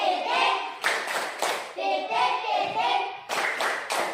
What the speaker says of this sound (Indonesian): 1, 2, 3, tepuk titik